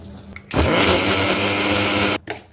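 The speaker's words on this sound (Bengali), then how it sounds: "নারকেল ও নারকেলের পানি দিয়ে একসাথে ব্লেন্ডার করতে হবে" A loud blender whirs at full speed for about two seconds blending coconut with coconut water, then cuts off abruptly, followed by a short rattle.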